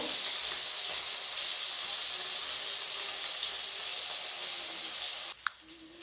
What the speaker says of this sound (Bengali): সয়াবিনগুলো আমি এইভাবে খুব সুন্দর করে ভেজে নেব।